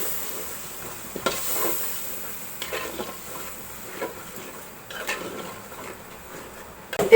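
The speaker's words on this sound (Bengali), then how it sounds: "এই মশলাগুলো আমি একটু ভেজে নিব।" Ground chilli, roast spice mix, garam masala and cumin powders frying in a pan, a steady soft sizzle with occasional scraping stirs and light clinks, close by with no talk.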